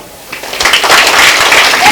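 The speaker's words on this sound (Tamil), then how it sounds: "நீங்களாம் நல்லா கைதட்டு கொடுங்க" An audience claps at a Tamil stage folk-song performance. The clapping builds from a quiet start into a dense, steady wash that continues to the end, mixed with voices.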